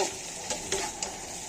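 Hilsa fish frying in a pan give a soft, steady sizzle over a short stretch, broken by a few faint clicks and spatters.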